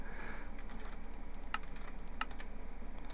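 Fingers roll steadily across a computer keyboard, a soft continuous patter of key clicks with a couple of sharper taps standing out, heard quietly over a constant low hum.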